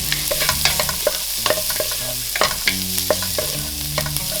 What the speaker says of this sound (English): add the onion and stir